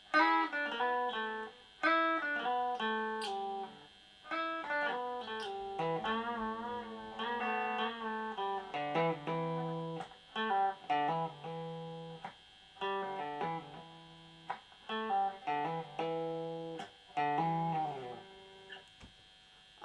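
An electric guitar plays a melody with distortion, plucking clear separate notes and quick hammer-on grace notes in a halting, repeated melodic phrase, alone and close.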